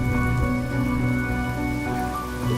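Rain falls in the video game Honkai Star Rail, a steady, dense patter of drops heard alone under a sustained tonal hum from the game's ambience.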